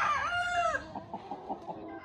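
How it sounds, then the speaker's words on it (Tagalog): A rooster crows once, loud and close, a long wavering call, followed by a few soft clucks. "Malaking manok."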